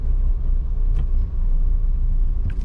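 A car pulls away after the brake is released, its steady engine rumble and road noise filling the whole stretch close by, with no talking.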